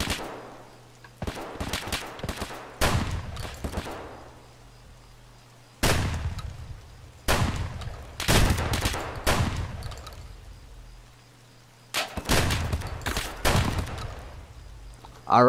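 Repeated gunfire bursts from an Escape from Tarkov firefight, several clusters of loud cracking shots in quick succession separated by short pauses, with sharp reports and decaying echoes, close and dominant.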